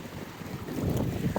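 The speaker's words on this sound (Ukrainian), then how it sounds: "з цього боку хвилі, і прямо вони захльостують на пірс, бачите?" Sea waves slap against and wash over a pier on an Odesa beach, heard as a continuous rough roar of surf mixed with wind buffeting, growing a little louder toward the end.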